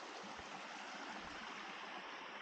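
Creek flowing in Clear Creek State Park, a soft continuous wash of rushing water, steady and faint with no voices.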